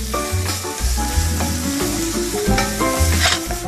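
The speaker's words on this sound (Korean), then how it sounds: "고춧가루도 한번 볶아주세요." Chili powder stir-fries in a hot pan while preparing nut-coated chicken, a loud close sizzle with rhythmic stirring scrapes and low thuds repeating every second or so, no talking.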